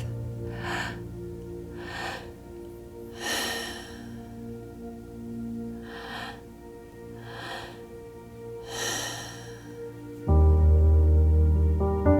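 Deep rhythmic breaths during breathwork meditation, about six slow inhale-exhale cycles heard close and airy, with a soft music drone underneath that swells louder near the end.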